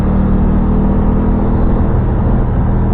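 A steady Aprilia Tuono 660 motorcycle engine drone with a throaty low hum and intake whir, holding a constant note close by while riding.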